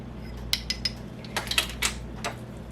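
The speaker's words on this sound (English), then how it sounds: "let me get my little whisk" A small kitchen whisk is picked up among metal utensils, giving a quick series of light clinks and taps, some single and some in short clusters, close by over a faint steady hum.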